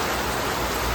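Rain falls steadily and close by at a roadside tea stall at the 35th Mile in Peruvanthanam, Idukki, a continuous even hiss with no voices.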